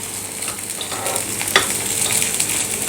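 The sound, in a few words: ragi appe roasting in pan on low-medium gas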